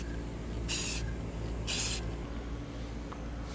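Two short hissing bursts of primer from a spray can onto Jeep trim, each about a third of a second, over a steady low background hum.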